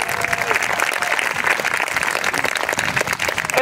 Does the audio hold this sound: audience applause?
yes